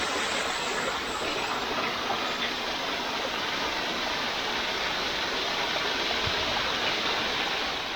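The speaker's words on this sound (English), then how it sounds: "right under that little waterfall" Constant rushing roar of a small waterfall in a North Devon coastal woodland near Woody Bay, heard up close with dense, even white-noise splashing and no pauses.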